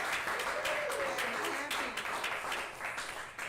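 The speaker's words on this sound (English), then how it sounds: "Applaud for yourselves." A congregation at a Sunday church service applauds steadily, a dense wash of clapping with a voice speaking faintly underneath.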